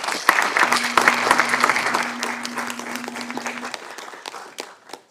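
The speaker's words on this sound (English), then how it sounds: "Can you give them a round of applause," Audience applause fills a city council chamber during a December meeting, a dense round of clapping with a faint steady hum beneath, gradually thinning and fading toward the end.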